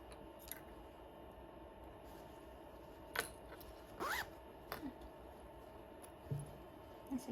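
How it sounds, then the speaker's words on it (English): A zipper on a small pocket of a handmade sewn bag is pulled in a few short, faint rasping zips spaced over several seconds, close by against a quiet room with no speech. "that's a cute little zipper pocket"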